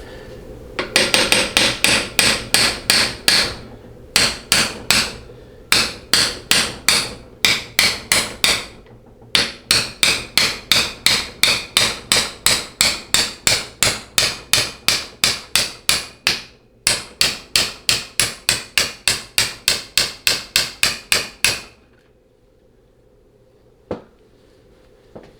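Rapid bursts of sharp metallic taps from a flat blade screwdriver knocking parts out of a 6L80 transmission pump stator, in quick runs of strikes separated by short pauses, close and loud, with no talk.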